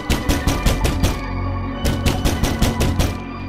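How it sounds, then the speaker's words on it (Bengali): Loud, rapid pounding on a bathroom door in two hard bursts of blows separated by a short pause, with no voices. "হঠাৎ তার বাথরুমের দরজা ধাক্কাতে শুরু করে।"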